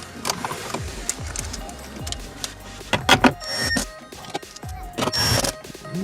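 Plastic glove box trim on a Lexus NX is handled and pushed into place, giving a series of close, sharp clicks and snaps with rustling between, two louder pops standing out.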